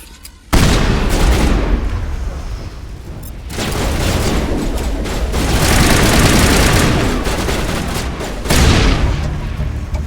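Sustained gunfire from a firefight in the video game Mass Effect, with loud bursts of shots and booming impacts continuing for most of the stretch after a brief quiet start, swelling and easing in waves.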